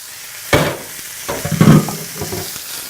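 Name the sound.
beef sizzling as it is added to the hot oiled pan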